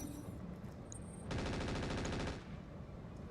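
Rapid automatic turret fire in the Roguetech video game, a dense, loud burst of rattling shots lasting about a second over steady game background.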